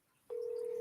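Steady telephone dial tone begins abruptly and holds as a single continuous, faint hum while calling in to a talk show.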